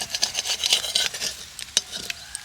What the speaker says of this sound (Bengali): এইভাবে উল্টে পাল্টে বেগুনগুলোকে ভালো করে ভেজে নিতে হবে